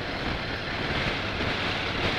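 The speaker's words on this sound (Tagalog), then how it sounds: "Ang lakas ng hangin." Strong wind blowing by a lake along a jogging path makes a steady, loud, broadband roar of buffeting that lasts throughout with no other distinct sounds.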